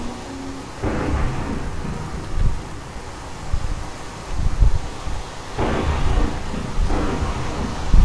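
Stormy wind and rain in a Minecraft tornado survival game, a steady loud roar that swells in gusts with deep thunder-like rumbles, and no talking over it.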